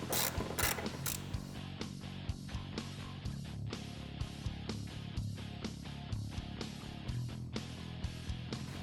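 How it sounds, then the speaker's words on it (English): A ratchet wrench removes clutch cover screws on a Polaris RZR RS1, close up: brisk repeated ratcheting clicks in short bursts, with a few sharper knocks at the start, no talk. "Remove all 9 screws that hold your clutch cover on."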